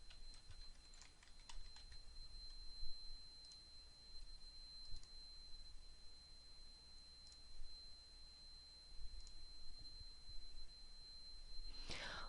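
Faint, scattered keystrokes on a computer keyboard as a comment is typed into a faculty absence form; quiet, irregular taps over a low steady background hum, with no talking.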